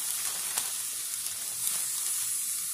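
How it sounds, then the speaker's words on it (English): Onions, green pepper and celery sizzle steadily in butter in a pan, a continuous bright frying hiss with small crackles and occasional stirring clicks, close and fairly quiet with no talking. "And I grill it on down. I sauteed it."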